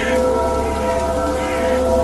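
Rain falls in a dark forest in an animated horror game scene, a dense steady hiss with low rumbling tones underneath, loud and continuous throughout.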